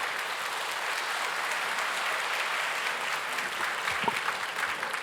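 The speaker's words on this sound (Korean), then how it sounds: "우리 박수로 함께 같이 환영하도록 하겠습니다." A Korean church congregation at a Sunday service applauds to welcome a pastor to the front, with steady, full-room clapping that carries on evenly throughout.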